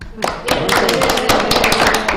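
A small audience at a town select board meeting gives a round of applause: steady, close clapping from a modest group that lasts the whole moment, with voices murmuring underneath.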